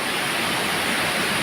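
A fast-flowing waterfall in the jungle near a temple makes a continuous, dense rushing roar, steady and close throughout with no voices.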